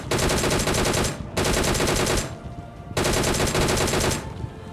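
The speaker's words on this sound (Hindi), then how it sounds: "यहाँ पे फायरिंग की साउंड आ रही है सामने की तरफ से" Sustained automatic gunfire in a battle-royale squad fight, loud and continuous in two long bursts separated by a brief lull, with rapid repeated shots and no talking over it.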